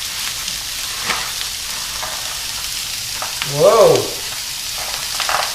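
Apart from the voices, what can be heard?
fennel frying in a pan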